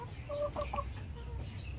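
Hens in a coop cluck in a short burst of a few soft, close calls over a low steady background hum, with no talking.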